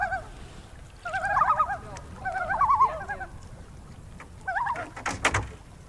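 Loons on a wilderness lake, a group of five, giving warbling, tremolo calls in several bursts across open water, mid-distance over a low background rumble.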